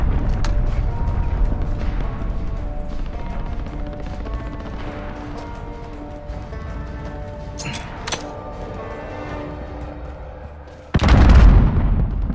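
In Call of Duty Modern Warfare gameplay, booms and gunfire rumble through a busy battle mix, ending in a loud, close cruise-missile blast near the end.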